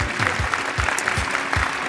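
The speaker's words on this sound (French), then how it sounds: "on peut l'applaudir hein, pour les nouvelles qu'elle nous a apportées" A brief burst of audience applause at a national energy-advice conference, fairly close with a few soft rhythmic low thumps mixed in.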